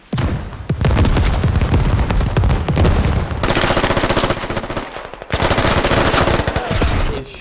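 Loud, sustained machine gun fire in the Squad video game, long rapid bursts broken by brief pauses, with booming impacts and close, dense shots throughout.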